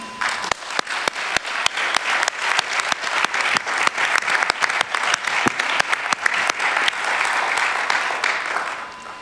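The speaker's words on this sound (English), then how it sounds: "give them a big round of applause" Audience applause after a call for a round of applause at a panel on economic crisis and religious solutions: dense, steady clapping from a sizable crowd, close and loud throughout, with sharp individual claps standing out.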